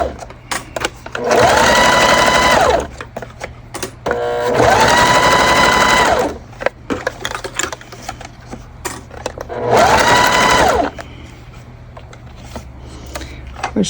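A sewing machine stitches a bag seam with a quarter-inch allowance, in three loud steady runs of about two seconds each separated by short pauses, close to the mic with a faint background hum.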